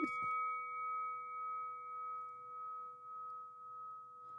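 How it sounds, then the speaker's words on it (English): A desk bell struck once on a morning talk show, giving a sharp clang followed by a long, steady ringing tone that sustains clearly for several seconds with faint background murmur underneath. "Let's hit that bell."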